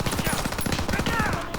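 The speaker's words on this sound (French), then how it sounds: "Daniel, c'est la mitrailleuse, tu as un frac." Rapid machine-gun fire rattles in a video game battle, in quick, evenly spaced bursts of loud, sharp shots that run without a break through the whole short stretch.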